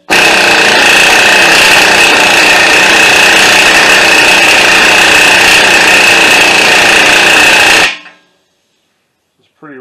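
A Milwaukee impact wrench hammering loose a tight, rusty CV axle nut on a 2008 Toyota Solara, one loud, continuous buzzing rattle lasting about eight seconds close up, then stopping abruptly into silence.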